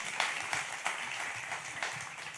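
Scattered audience clapping at a writing studio event, soft and fairly distant, a steady patter of hands with a few sharper claps standing out, no voices over it.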